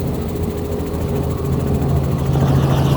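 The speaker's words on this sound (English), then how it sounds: "Yeah, helicopter!" Helicopter engine and rotor roar steadily from inside the cabin on a flight over a remote island, loud and continuous with a low droning hum.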